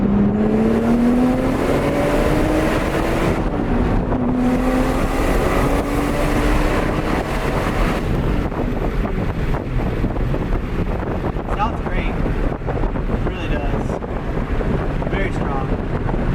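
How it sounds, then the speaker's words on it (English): A Lotus Evora S with a straight pipe exhaust accelerates onto a highway in normal mode, its engine note climbing through a gear under loud rushing wind and road noise. "We're going to accelerate here onto the highway."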